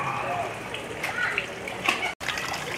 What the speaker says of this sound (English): A nice little waterfall.